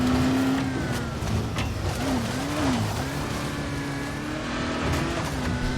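Car engine in the video game Dying Light, a steady continuous drone with shifting pitch as the vehicle drives, at moderate level throughout with some tire noise.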